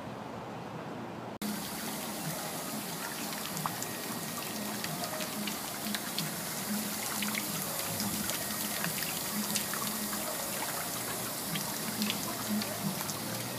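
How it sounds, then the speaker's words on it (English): A cascade waterfall in a shopping center gives a continuous, even rush of splashing water, heard close and steady throughout. "you're a fancy shopping center when you have sort of a cascade waterfall"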